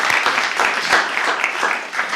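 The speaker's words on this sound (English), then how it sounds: "for that he deserves our applause." A room full of people at a city council meeting in St. George, Louisiana applauds steadily, a dense wash of clapping that stays fairly even for a couple of seconds.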